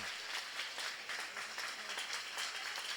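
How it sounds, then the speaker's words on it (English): A crowd of Lavey supporters gives a rousing, steady round of applause at the 2009 Intermediate Championship Gaelic football final against Cootehill, a dense wash of many hands clapping, heard from a distance. "We get a rousing round of applause here from the Lavey Joe Biggers."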